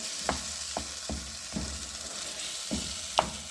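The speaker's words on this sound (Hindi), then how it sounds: "तो जैसे कि मैंने कहा कि वहाँ पे हमारा मसाला भून रहा है" Masala with mashed tomatoes frying in a pan, with a steady close sizzle broken by several sharp stirring clacks of a spoon against the metal.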